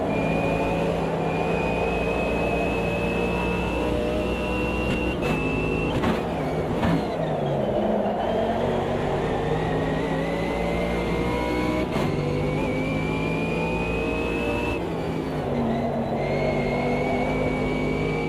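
Coca-Cola themed McLaren race car in a racing video game, its engine holding a steady high whine with rising and falling revs and brief gear-shift dips, loud and continuous throughout with no talk.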